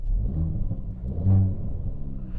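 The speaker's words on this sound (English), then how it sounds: "you can hear that you get the nice pop and bang and a little bit of overrun out the exhaust" A 2018 Hyundai i30 N 2.0 in N mode revs up close, its engine rumbling and swelling to a louder peak around the middle before settling, with exhaust pops and overrun crackle, no talk.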